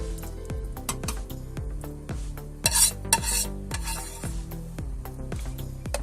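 A metal spoon stirs fried tomatoes into softened meat in a pot, clinking in steady repeated strokes against the metal, with a faint sizzle beneath and one brief louder scrape midway.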